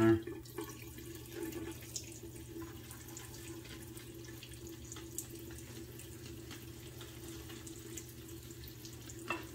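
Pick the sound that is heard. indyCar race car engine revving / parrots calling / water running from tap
water running from tap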